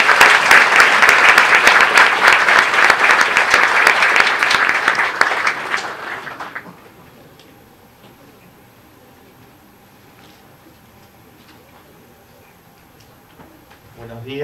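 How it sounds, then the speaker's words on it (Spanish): Audience applauds to welcome a doctor speaking at a university conference in San Marcos, a loud, dense clapping for about six seconds that cuts off abruptly, followed by a quiet room with faint shuffles. "recibamos con un fuerte aplauso al doctor Bernardo Kliesberg."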